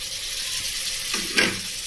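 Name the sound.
mango pieces added to frying spices for pickle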